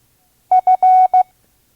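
Morse code letter F sent at 5 words per minute: a clean single tone of two short dits, a long dah and a final dit, crisp and isolated against silence.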